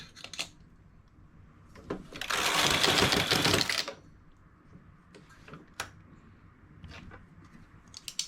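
Knitting machine carriage sliding across to knit a row of braids, a close, loud rasping whir lasting under two seconds, with scattered clicks and clacks of the machine before and after.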